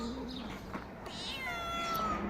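A cat meows several times in a quiet room, drawn-out and fairly close, with a higher meow near the end.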